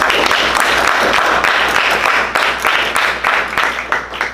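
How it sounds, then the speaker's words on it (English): Audience at a Maine company change of command ceremony gives a quick round of applause, dense steady clapping from many hands throughout, loud and sustained with no talk over it. "if we can give him a quick round of applause"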